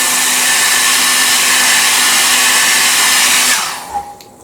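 A hair dryer blows steadily at close range over a gel plate print, a loud continuous whir with a constant tone, then cuts off and quickly fades to near silence.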